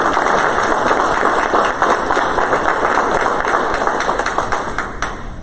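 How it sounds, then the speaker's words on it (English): Audience at a Norwood Board of Education meeting applauding a varsity tennis athlete: loud, dense, sustained clapping from a room full of people that tapers slightly toward the end. "So if we could give a round of applause for Mr."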